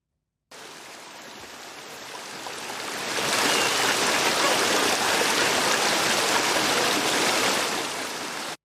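Rushing waterfall ambience from a video game level, a continuous broadband roar that swells louder after a few seconds and holds steady before easing slightly at the end.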